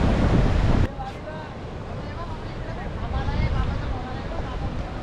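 Wind and surf at Devghali beach on the Konkan coast, a steady broadband roar of waves with gusty wind buffeting the microphone, louder in the first second, then a continuous wash with faint voices beneath.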